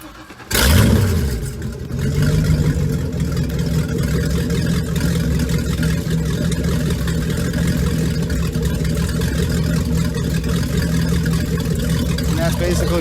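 A Mercruiser Bravo sterndrive boat engine starts with a sharp burst, then settles into a loud, steady idle with water flowing out, continuous and close throughout.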